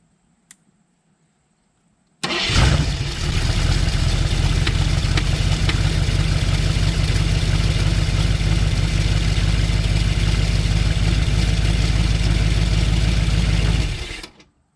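An old AMC Rebel car engine cranks and catches after a near-silent pause, then settles into a loud, steady idle for about twelve seconds before cutting off abruptly.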